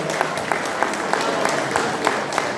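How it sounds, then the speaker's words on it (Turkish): Steady, dense applause from a crowd, with faint voices mixed in throughout. "Onları can yüreğinden alkışlıyorum."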